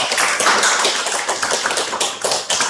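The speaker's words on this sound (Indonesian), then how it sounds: "Beri tepuk tangan lagi dong." Classroom audience claps for a student group returning to their seats after a business education microteaching presentation, a dense, lively patter of many hands, close and loud, with no talking over it.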